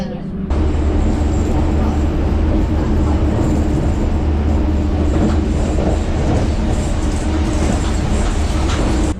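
A London Underground train at Baker Street station rumbles steadily and loudly throughout, with a deep continuous rolling drone and faint rail clatter, while voices murmur faintly beneath.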